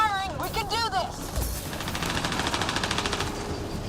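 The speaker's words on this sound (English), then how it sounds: "Just keep firing!" Rapid automatic gunfire in a Mass Effect Andromeda firefight, a fast steady stream of shots after an electronic warbling tone and a thump, with voices calling out over the battle.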